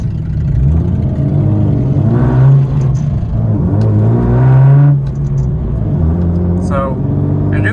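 A Nissan 370Z with rev matching switched on revs up repeatedly, its mid-pitched engine tone climbing and falling in rising sweeps, loud and close, while someone talks over it.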